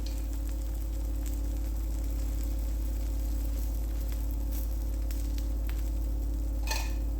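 A beetroot dosa fries in oil on a coated pan with a soft, steady sizzle. A low constant hum runs beneath it, and a few faint clicks and scrapes break in near the end.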